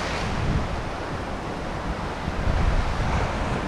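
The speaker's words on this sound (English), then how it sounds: "it's always worthwhile watching the swells just for a minute" Ocean swell rolling in and breaking on a UK shoreline during a sea fishing trip, a steady broadband roar of surf with wind buffeting the microphone, swelling slightly louder near the end, no voices.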